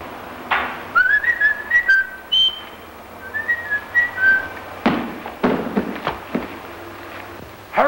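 A man's whistled signal from a film comedy: several short, bright rising whistles in quick bursts, then a pause and another run of lilting notes, with a few sharp knocks and thumps near the end.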